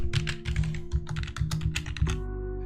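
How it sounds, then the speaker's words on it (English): Rapid, uneven clatter of keys as a password is typed on a computer keyboard, close and fairly loud, over a steady low electrical hum, ending in a sustained tone after about two seconds. "Let's type in a password"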